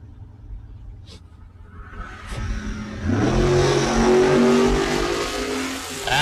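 Drag racing cars at the Northwest Independence shootout, Al Chin in the right lane chasing down a Camaro; engines rev and roar harder after a few seconds, loud and sustained, with an announcer talking over them.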